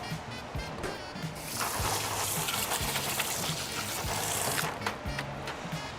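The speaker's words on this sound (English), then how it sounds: "Let's get some water going." Tap water runs into a pot for pasta in a home kitchen, a steady rushing hiss that swells louder through the middle and eases off near the end.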